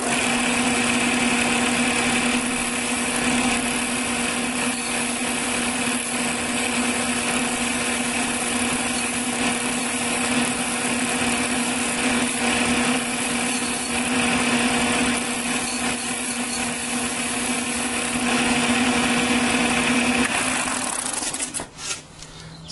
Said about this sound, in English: And so we're going to grind that flange off and make it nice and smooth.